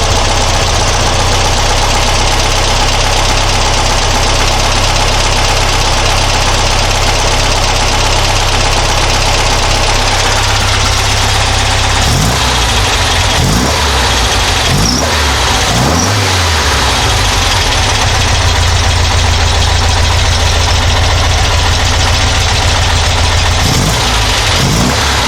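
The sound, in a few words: engine with Dellorto DRLA carburetors idling, one cylinder missing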